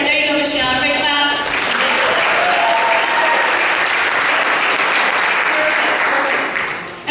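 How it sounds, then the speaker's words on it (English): A group of people at a leadership meeting breaks into sustained applause, a thick continuous clatter of clapping that stays loud and even for several seconds before tapering off at the end. "Everybody clap."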